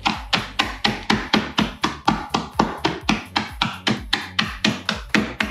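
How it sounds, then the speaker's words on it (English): A hammer pounds corn kernels sealed in a Ziploc bag, about twenty sharp, evenly spaced blows in a steady rapid rhythm, each a close, loud crack with a short crunchy rattle. "What if I put them in a Ziploc bag and then hit them with a hammer?"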